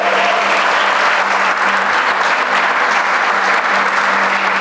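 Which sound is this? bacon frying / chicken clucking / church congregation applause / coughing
church congregation applause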